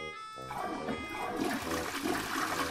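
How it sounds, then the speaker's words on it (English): A toilet flushing in the game Who's Your Daddy, a short rushing gush of water that swells after a brief tonal start and keeps churning to the end, close and alone. "Can I flush the toilet?"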